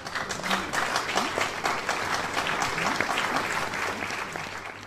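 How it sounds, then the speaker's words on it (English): A crowd applauds continuously, a full, even wash of clapping with a few whoops mixed in. "Let's have a brief round of applause for that."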